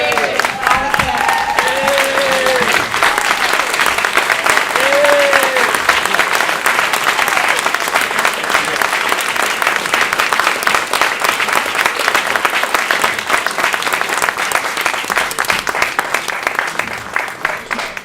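A gubernatorial candidate forum audience gives a standing ovation, dense sustained clapping that fills the room loudly and evenly, with a few brief shouts and voices mixed in early before the applause tapers slightly at the end.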